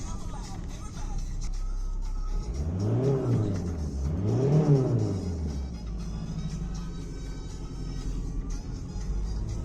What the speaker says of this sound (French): Bon là j'accélère, le moteur il est chaud, hein.